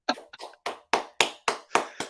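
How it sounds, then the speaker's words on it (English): Claps from a live comedy show audience for NHS key workers, sparse and distinct, about eight separate sharp hits in a loose, uneven rhythm. "Clap the key workers."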